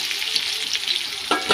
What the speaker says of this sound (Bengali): একটু ভেজে নেব আলুটাকে।